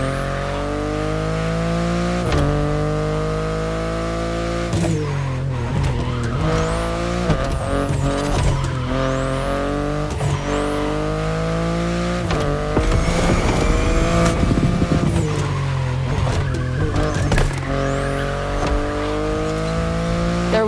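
BMW i8 sports car in The Crew Motorfest, engine droning loud and steady throughout with shifting revs, and bursts of tire squeal and skidding around turns partway through.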